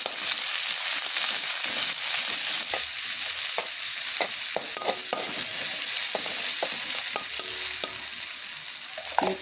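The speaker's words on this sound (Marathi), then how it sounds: "मोहरी टाकली, जिरे टाकूया, कोथिंबीर टाकूया, अद्रक लसणाची पेस्ट टाकूया," Mustard seeds, cumin, coriander and ginger garlic paste fry in hot oil for a bean pod curry, a loud continuous sizzle close up with scattered spoon scrapes and crackles.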